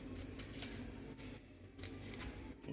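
Papery onion skin is peeled away by hand in a kitchen, giving faint crinkling, rustling scrapes in short uneven bursts.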